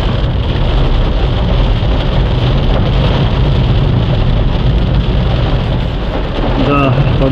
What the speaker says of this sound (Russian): Да, погода жесть. Град.